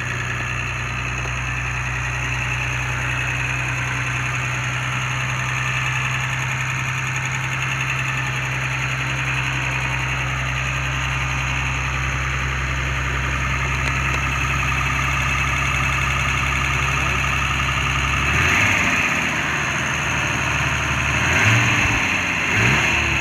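A 1981 Mercedes 280 SL W107 engine idles steadily and close by with an even hum, then revs briefly twice near the end.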